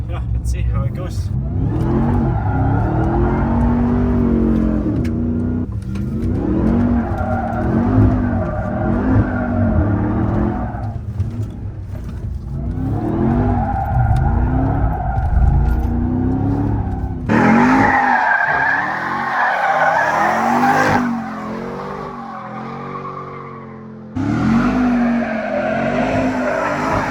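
A 700-horsepower drift truck slides along a European mountain road, its engine revving hard over sustained tire squeal and skidding, loud and close throughout with voices talking over it.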